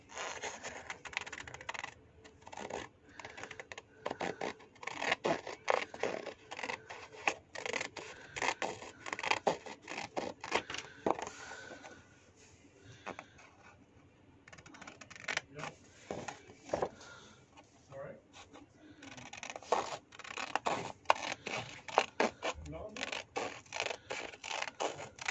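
Scissors or a craft knife cutting along score and pencil lines on a cardboard flip lid cube box, giving a steady run of close, dry scratchy snips and scraping strokes with brief pauses.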